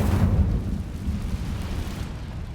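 The Incendio fire spell cast in Hogwarts Legacy, a loud roaring whoosh of flame that bursts at once and keeps up a steady rumbling rush for a couple of seconds, with no talk.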